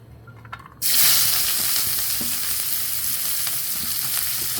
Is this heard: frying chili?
yes